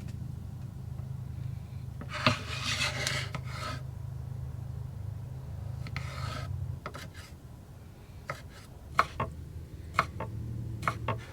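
A knife dices pickles on a cutting board while stealth camping overnight in a McDonald's parking lot, first as a scraping rasp of quick strokes, then as sparse sharp chops and taps over a low steady hum.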